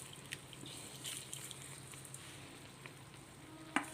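Roasted coconut with chilli, mustard seed and urad dal is stirred into koottu curry in a pan, giving a faint, steady sizzle with soft scrapes and one sharper clink near the end.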